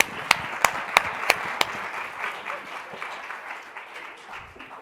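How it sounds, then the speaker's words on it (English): Conference keynote audience breaks into applause, opening with several sharp, loud claps close by before settling into a softer, steady wash of clapping from the crowd. "can we just clap again for Vanessa?"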